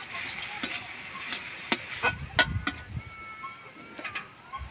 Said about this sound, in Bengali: পুরটা খুব ভালো করে ভেজে নেব।